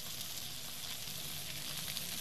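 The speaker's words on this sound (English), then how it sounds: "let them cook in that hot skillet until the juices run clear" Seasoned chicken breasts sizzle in a hot skillet, a steady close crackling hiss of frying that continues evenly throughout, with no talking.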